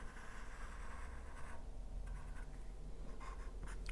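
Pen or pencil drawing a line segment on paper during a geometry exercise, a faint, close scratching stroke that carries on steadily for a few seconds with no speech.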